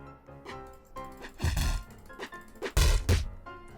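Cartoonish whacks and thunks from a fight in the Roblox game Gym Tycoon, with several punchy hits clustered in two loud bursts over game music.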